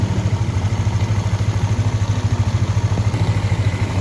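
A Yamaha Aerox 155 scooter engine runs at a steady idle, close up, with a fast even pulsing putter and light mechanical clatter, alone without any talk.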